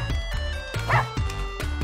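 A cartoonish dog in the video game Russian Subway Dogs barks in short, sharp repeated yaps, about five quick bursts over steady game music.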